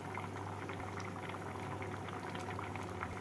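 Moong dal boils in a pot for a fish-head dal, giving a soft, continuous bubbling and gentle rolling simmer, close by and faint, with no voices.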